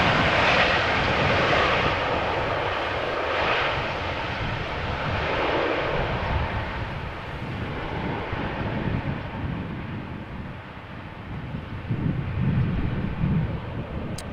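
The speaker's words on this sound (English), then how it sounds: "this is a KLM style landing, keeping up the speed, vacate late, sooner at the gate" A KLM airliner lands at Amsterdam Schiphol Airport, its jet engines roaring loud and steady with wind buffeting the microphone, the roar easing slightly toward the end, no voices.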